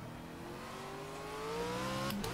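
A BMW Z4's engine revs loudly from the cockpit view in the Project Cars racing game, its pitch climbing steadily before a quick gear change near the end.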